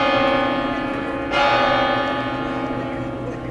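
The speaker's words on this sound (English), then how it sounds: "The bells here, so we wait a second." Church bells ring loudly and continuously nearby, a sustained, richly ringing tone with a fresh strike partway through that swells the sound before it slowly fades.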